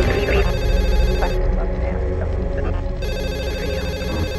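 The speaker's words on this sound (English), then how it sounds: "She was just getting comfortable when she heard the phone ring." A telephone rings steadily, with a brief pause in the ringing, under a busy mix of background sound and muffled voices.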